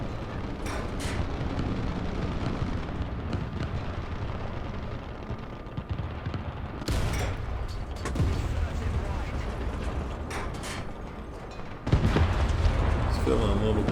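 Tank cannon fire from an American M22 Locust airborne light tank in War Thunder, with heavy booms at intervals over rumbling engine and battle noise, loud and close.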